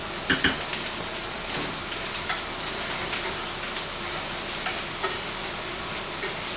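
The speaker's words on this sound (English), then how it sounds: "I'm going to add in a nice knob of butter and the remainder of our thyme. And we'll get a nice baste in." Steak basting in a pan with a knob of butter and thyme, sizzling steadily throughout, with a few sharp spoon-on-pan clinks near the start and soft scraping under the constant hiss.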